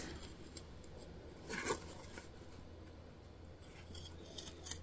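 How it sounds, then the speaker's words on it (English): Scissors snip through fabric while cutting a Y shape close to the stitching in the corners of a sewn hobo bag, giving a few soft, close cuts with one louder snip near the middle. "we're cutting out into like a Y shape, not cutting our stitches, but getting super close."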